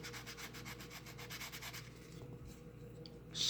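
Sandpaper rubbed against the polymer frame of a SIG P365 pistol, giving quick, even back-and-forth strokes for about two seconds, then quieter rubbing, faint and close with no talk.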